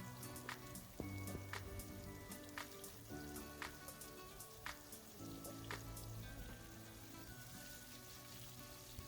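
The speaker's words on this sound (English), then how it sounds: "Then sauté the minced garlic. And then the onions." Minced garlic and onions sautéing in hot oil, a faint, continuous crackling sizzle with scattered sharp pops and spits, quiet and steady for the whole stretch.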